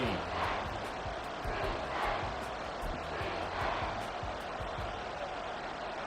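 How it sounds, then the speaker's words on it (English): A stadium crowd roars at Arrowhead in the football game Madden 24, a broad, steady wash of cheering that holds throughout with rhythmic thumps and faint commentary beneath. "The Arrowhead crowd in full roar."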